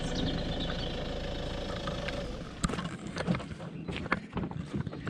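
A vehicle loaded with beehives drives slowly and gently, its engine a steady low rumble that gives way after a few seconds to scattered knocks and rattles.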